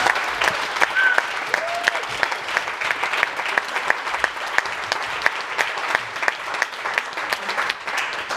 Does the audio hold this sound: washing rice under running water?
no